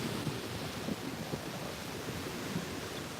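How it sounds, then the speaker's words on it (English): Strong wind roars steadily across an open microphone outdoors, a dense continuous rumble and hiss with gusty low-end buffeting throughout, loud and alone with no talking. "It's very windy here this morning, so sorry if the sound's too loud."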